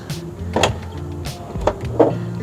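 A loose front door on a cheap used car rattles as it is opened and closed, giving a few close, sharp clunks and knocks over a low mechanical hum.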